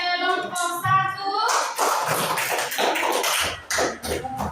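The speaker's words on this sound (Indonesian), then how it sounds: "Tepuk tangan untuk kelompok 1." A classroom group in Indonesia claps for group 1 after a lesson about eggs hatching: a short burst of dense hand-clapping that starts right after a voice and continues with scattered voices.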